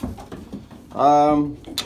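Pigeons in a loft give a brief, close, throaty coo that swells for about half a second amid soft rustling and shuffling.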